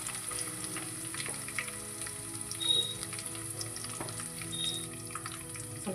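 Crushed garlic, ginger, curry leaves and onion fry in a pan with a soft, steady sizzle, quiet and close, with a few light spits and pops.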